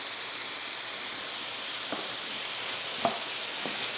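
Cauliflower frying with spices in a pan, a steady soft sizzle with a few faint taps and clicks from stirring, no voices.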